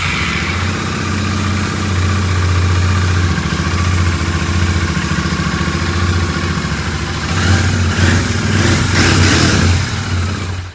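A chrome GT 2022 second-hand motorcycle with about 1500 km on it idles steadily and loudly up close, its low engine throb continuous, with a slight rise in intensity near the end.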